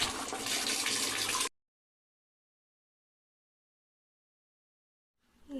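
Water running from a tap onto a leg to wet the skin before applying body sand, a dense splashing hiss for about a second and a half, then silence, with the flow returning faintly at the end.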